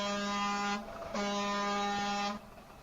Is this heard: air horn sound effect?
yes